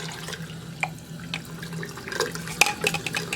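Hot water from a heater pours into a container, a close, continuous running trickle with small splashes and drips.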